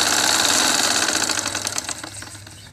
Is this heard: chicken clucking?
no